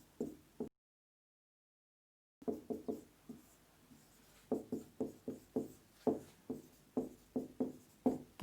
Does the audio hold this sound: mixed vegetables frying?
no